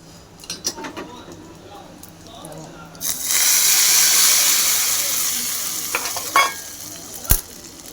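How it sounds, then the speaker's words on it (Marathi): A sharp, loud sizzle bursts as mustard seeds, cumin and curry leaves hit hot oil for tempering, crackling steadily for a few seconds before easing, with scattered clinks before and after. "मोरी जिरं कढीपत्ता फोडणी आता देऊन घेते मी"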